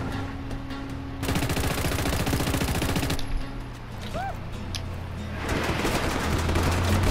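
Rapid automatic gunfire aimed at a vehicle's front wheel in Just Cause 3, a sustained clattering burst followed by more shots amid vehicle and explosion noise, with a voice talking over parts of it.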